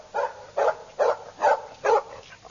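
A dog in an audio drama set in Victorian London barks in five evenly spaced, clear, close barks, with a slightly whimpering, yelping edge.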